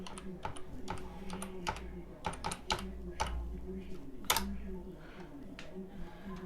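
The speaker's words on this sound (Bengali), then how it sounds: "আমি যদি এখানে ইনস্টাগ্রাম লিখে সার্চ করি" Fingers tap out a word on a computer keyboard to search for Instagram, a quick run of crisp key clicks in short bursts with pauses, close by, and a voice talking softly underneath.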